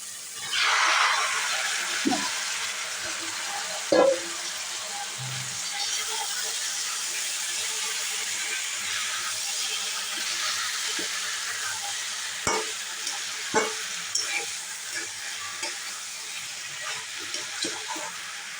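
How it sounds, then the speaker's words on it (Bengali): Vegetables for a Malabar spinach chorchori with lentil dumplings fry in spiced oil, giving a steady moderate sizzle with occasional scraping and clicking as they are stirred in the pan. "মশলাটা হয়ে গেছে তেল বেরিয়ে গেছে এবার সবজিগুলো দিয়ে দিচ্ছি"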